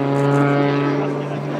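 Rob Holland's aerobatic propeller airplane performs at an airshow, giving a steady, loud drone with strong harmonic engine tones that dip slightly as it passes, while an announcer talks over it.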